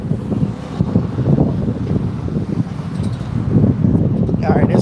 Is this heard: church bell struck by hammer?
no